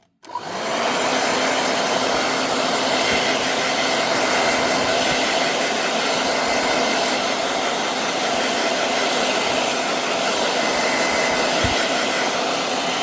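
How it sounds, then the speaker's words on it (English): A hair dryer starts and blows steadily at close range, a loud continuous whoosh with a faint motor whine. "now I'm gonna dry it again with my hairdryer"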